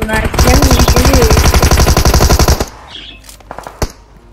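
Automatic gunfire in PUBG, a loud rapid burst of rattling shots for over two seconds that stops abruptly, followed by a few scattered softer clicks and thuds.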